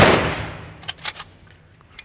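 A rifle volley fired as an honour salute at a funeral, one loud outdoor blast decaying into echo, followed by a few fainter sharp cracks from the firing party.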